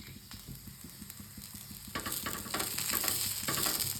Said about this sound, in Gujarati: અહીંયા આપણે ભાખરી છે ને ઘીમાં તળવાની છે